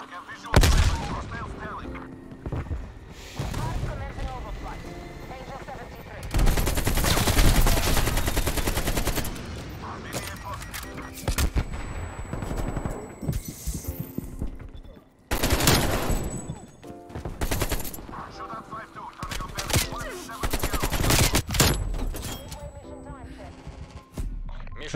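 AK-47 automatic fire in Call of Duty, the buffed rifle of the Season 3 Reloaded update, cracks out in loud sustained bursts and short volleys with booming impacts, over a player talking now and then.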